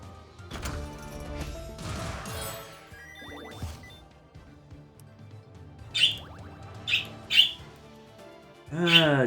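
Excited birds in the video game Wizard of Legend squawk in sharp bursts amid crashing combat hits and game effects, the chirps bunching together loudly near the end.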